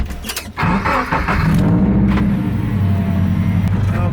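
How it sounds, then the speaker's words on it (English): A straight-piped Subaru FRS with no muffler cranks and fires up close by, settling into a loud, raspy idle after a few rough seconds. "now it just sounds so obnoxious now that I don't have any type of muffler"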